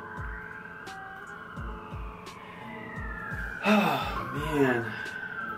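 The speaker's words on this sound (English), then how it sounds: "I cannot get away from these sirens" Emergency vehicle sirens pass outside a home, their wailing tones drifting steadily through the background while a person speaks briefly nearby.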